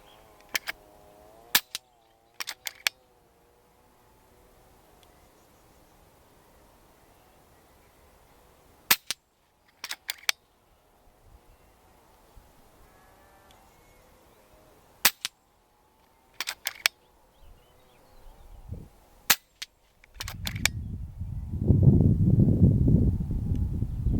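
An air rifle firing FX Hybrid slugs outdoors on a farm or in woods, a series of sharp isolated cracks spaced seconds apart, some closely paired, then rustling handling noise at the end.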